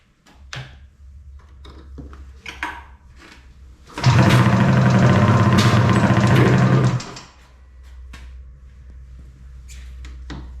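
A Polaris Storm 800 triple snowmobile engine fires and runs loud and close for about three seconds, a rough buzzing idle that then cuts out, with clanks and handling noises before and after.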